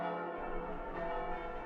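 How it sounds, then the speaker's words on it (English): A single bell rings with a sustained, resonant tone that holds steadily and fades only slightly, sounding like a church bell heard at a distance. "Oh, a bell"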